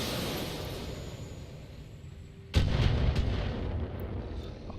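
Weapons fire from a precision strike in the BattleTech video game: after a low rumbling hum, a sudden heavy blast erupts and rolls on into a sustained booming volley, loud and with no talk.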